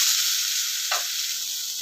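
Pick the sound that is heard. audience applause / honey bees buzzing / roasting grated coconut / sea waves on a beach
roasting grated coconut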